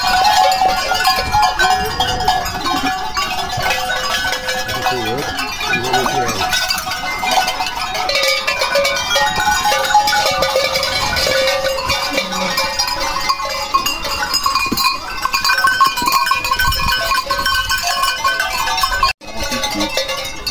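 Goats and sheep crowding a farm pen as the herd is counted, with a dense, continuous chorus of bleats and clanking bells close by, loud and steady throughout, under occasional faint talk.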